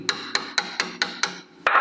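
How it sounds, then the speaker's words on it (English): Six quick metallic hammer taps knocking out a ball joint on an Alfa 147 suspension, evenly spaced, close and sharp with ringing decay, followed by a scrape. "carefully tap it out with a hammer."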